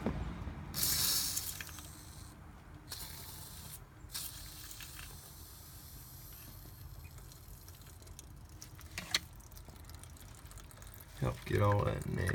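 WD-40 sprays in short hissing bursts into the front differential of a Jeep Rubicon, close up, with pauses between bursts and some handling noise.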